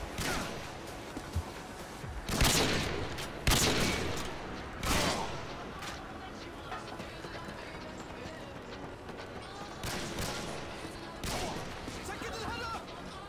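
Gunfire and explosions crackle in a Modern Warfare 2 clan war, with sharp bursts and heavy blasts at irregular intervals and a busy gameplay bed between them, while players chatter over it.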